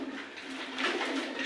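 A brief, soft coo from Jalali pigeons kept indoors, close by and low against a faint room hum, with no voices.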